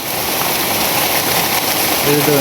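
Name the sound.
heavy rain suddenly starting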